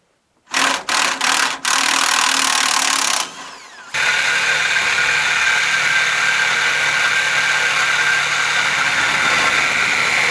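A K5 Blazer engine with open Doug Thorley headers cranks with a few sharp bursts, then runs loud, raw and close with a steady, unmuffled roar that keeps going to the end.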